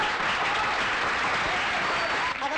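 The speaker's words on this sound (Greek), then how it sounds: "Ένα χειροκρότημα." An audience at a 1984 contest event breaks into sustained, dense applause, loud and even throughout with no pause.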